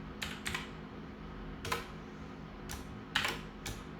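Python code being typed on a computer keyboard, with a few quick, close clusters of key clicks separated by pauses over a low room hum.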